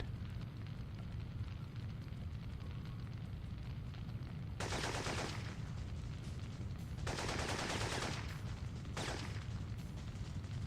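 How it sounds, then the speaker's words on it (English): A continuous gunshot glitch in the Syphon Filter video game produces a steady, faint stream of rapid-fire gunfire, with brighter, louder bursts swelling in and out several times over the roar. "It's one continuous gunshot."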